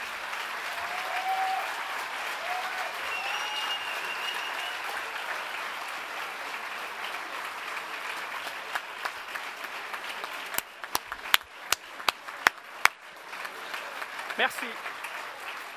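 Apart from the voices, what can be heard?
audience applauding school staff at graduation ceremony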